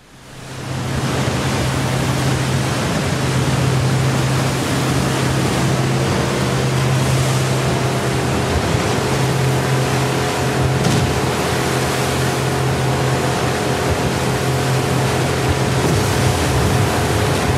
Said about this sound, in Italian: Madonna che onde.